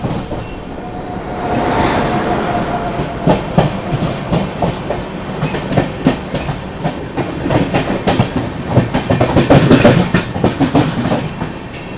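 The Vikramshila Express runs through Prayagraj Junction with a continuous roar and a rapid, uneven clatter of wheels over rail joints, close and loud throughout.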